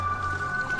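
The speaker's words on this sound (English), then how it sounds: "Rinsing." Water sloshes and drips as someone rinses off in a bathtub, a short close wet splash with a faint dripping tail.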